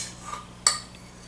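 A spatula scrapes thick fudgy brownie batter off a whisk inside a mixing bowl, giving a soft rasping scrape with one sharper clink of utensil against the bowl midway, close and quiet with no talking.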